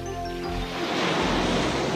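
Cartoon river water rushes in a steady broadband wash, with a brief musical tone fading out at the start, then continuous flowing noise at moderate level with no talking.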